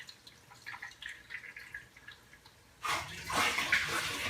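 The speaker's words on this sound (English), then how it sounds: "I'm going to pour in very gently so I can minimize agitation on the bottom of the corals" Mixed salt water poured gently from a bucket into a reef aquarium tank with corals: faint trickling and drips give way to a sudden, louder, steady splashing pour close by, with no talking.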